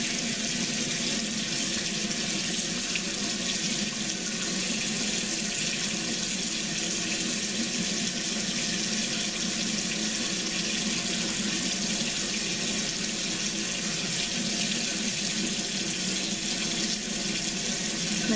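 Water runs steadily from a tap while a face mask is rinsed off at a sink, a continuous broadband splashing hiss lasting throughout with no voices.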